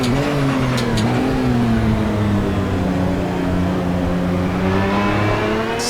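A Lister Storm GT1 race car in the Assetto Corsa racing game howls at sustained high revs, its engine note wavering slightly up and down, loud and continuous throughout with no talking.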